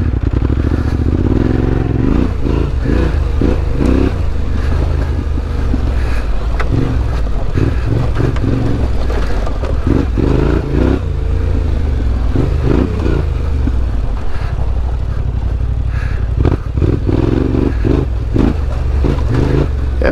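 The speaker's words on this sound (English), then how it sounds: "I don't know if we picked up any power with that Akrapovic exhaust on here, but I'm sure you guys can hear that, and it sounds phenomenal" A Yamaha Tenere 700 fitted with an Akrapovic exhaust rides singletrack, its engine loud and close with repeated throttle blips and rasping pulses over wind and clatter, no talk.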